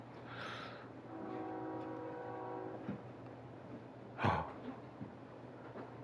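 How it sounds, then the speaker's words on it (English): Steam-style train horn in the Kerbal Space Program video game, sounding as a sustained multi-tone blast of a few seconds over a low rumble, followed by a sharp clunk and some lighter knocks. "Ladies and gentlemen, the train."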